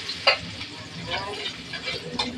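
Onions fry for pork sisig, giving a soft, steady sizzle. Scattered clinks and scrapes of stirring break through, and there is no talk.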